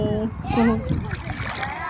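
People splashing into river water while bathing, a short burst of splashing and churning water after and under several excited voices, including children.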